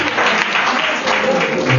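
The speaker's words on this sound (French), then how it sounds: "Please, can we encourage you by clapping?" A church congregation claps during a bilingual French and English prayer service, with steady, dense applause filling the space at moderate loudness throughout the short stretch and a voice faintly under it.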